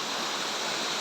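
Close, loud, unbroken roar of Pradhan Pat waterfall's rushing water in the Deogarh area, a dense even hiss of falling water lasting about a second.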